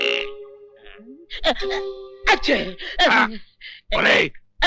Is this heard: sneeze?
yes